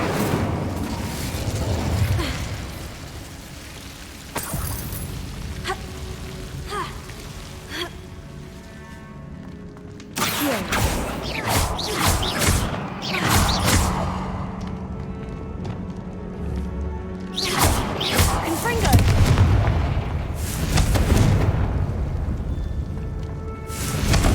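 Incendio fire spell cast in Hogwarts Legacy, heard as a few loud, fiery whooshing bursts and booms over busy game sounds, with quieter stretches between the blasts.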